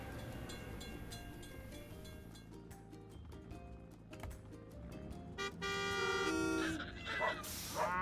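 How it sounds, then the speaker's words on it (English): In an animated cartoon, a rattling, clattering mechanical rhythm builds steadily as a train rolls past a closed level crossing, with a bright ringing tone rising near the end. "We have to wait for the train to pass."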